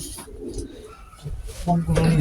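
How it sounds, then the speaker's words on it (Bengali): Pigeons newly housed in a coop coo in soft low bursts close by, with rustling in between, the cooing growing fuller toward the end. "দেখেন নতুন কবুতর"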